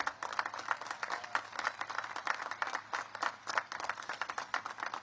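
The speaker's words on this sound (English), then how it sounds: "So let's give a big round of applause to the entire faculty and staff that made this" Audience applause fills a Coast Guard Academy commencement ceremony, a dense, steady crackle of many clapping hands that keeps going for several seconds at moderate distance.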